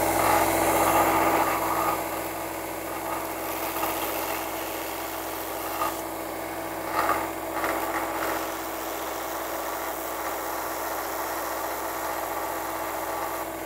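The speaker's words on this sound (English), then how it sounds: "I've ran that belt sander on this feather and I've gotten the bottom thinned out quite a bit" A belt sander runs continuously, thinning the spine of a wild turkey feather, a steady close mechanical whir with slight swells in pitch and loudness as the feather is pressed to the belt.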